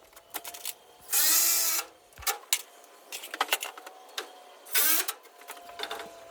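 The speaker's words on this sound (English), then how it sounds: "So now I'm just going to run in a bolt in the back end of both of them to stabilize them." Power drill driving a bolt into a wooden turkey roost post outdoors, two loud sustained whirring bursts separated by scattered clanks and handling knocks.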